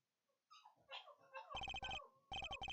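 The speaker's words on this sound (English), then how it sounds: "The dogs are yelling too much and my hearing is going!" Dogs yelp and bark in the video game Ace Attorney Investigations: Prosecutor's Gambit, a short burst of whiny cries followed by repeated bright electronic chime-like tones.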